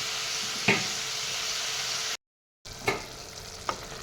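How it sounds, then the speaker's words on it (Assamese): Chicken meat frying in a pan for a potato and tomato curry hisses in a steady broadband sizzle, with a few sharp scrapes of stirring breaking through, cut by a brief silent gap. "ইয়াত দেখিছেনে মাংসখিনি মই এনেদৰে ভালদৰে তল ওপৰ কৰি এয়া লৰাই দি দিছোঁ।"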